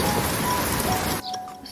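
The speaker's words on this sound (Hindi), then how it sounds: "उसके कुछ ही देर बाद बहुत तेज बारिश होना स्टार्ट हो गई" Heavy rain pours over farm fields as a dense, loud, steady hiss that cuts off abruptly near the end, leaving only faint drips and hum.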